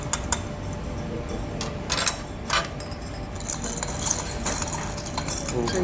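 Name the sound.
continuous stirring of methyl benzoate nitration reaction mixture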